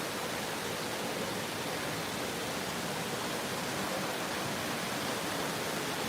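Flood water around a flooded building at Pattaya Beach gives a constant, dense rushing wash, like steady pouring or flowing water, even in level throughout with no voices.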